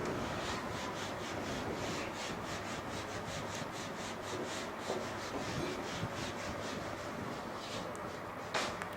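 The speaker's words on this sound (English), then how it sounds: "I will rub all this." Chalk or writing is rubbed off a classroom board in a steady, continuous scrubbing for about nine seconds, close and fairly loud with a rhythmic back-and-forth texture and no speech.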